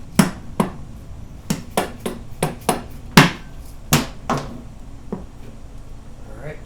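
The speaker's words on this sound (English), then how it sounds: "just give it a tap with a hammer, break the gasket loose" A hammer taps the engine cover of a Honda CB-series motorcycle engine during a bottom end rebuild to break the gasket loose. About a dozen sharp metallic knocks come in an irregular rhythm, close and distinct, then trail off.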